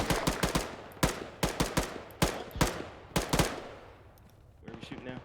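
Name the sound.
gunfire in a video game firefight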